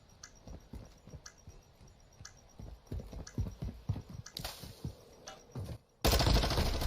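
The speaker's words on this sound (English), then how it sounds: "Nice Dashy sniper." Game gunfire during a competitive shooter match comes as rapid, sharp, fairly quiet shots in irregular bursts, ending in a louder blast of noise near the end.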